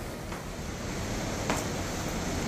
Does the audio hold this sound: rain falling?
yes